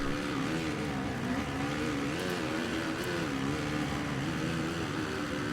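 A Suzuki RM-Z250 motocross bike in the MXGP2 video game on a German track, its engine droning at high revs with wavering pitch as the throttle rises and falls, loud and continuous, without talk.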